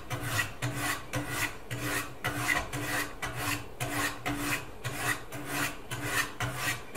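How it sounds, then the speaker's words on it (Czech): KMFS second-generation precision knife sharpener: a knife blade sliding back and forth along a sharpening stone in a steady rhythm of about ten close, even rasping strokes, with no talking. "můžete si všimnout, že to má malinko jemnější zvuk, se to ostří už jen vyvazuje"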